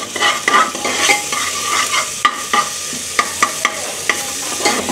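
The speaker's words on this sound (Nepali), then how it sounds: "अनि त्यसपछि लसुन पनि मैले त्यसमै भुटिदिन्छु" Garlic fries with goat head meat for a Nepali Thakali-style curry: a loud, crackling sizzle with rhythmic stirring scrapes and spatula knocks against the pan.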